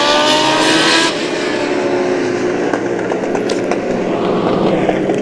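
US Legend race cars at New Hampshire Motor Speedway roar loudly and continuously as the engines blare, with the pitch shifting as the pack rushes past and races on.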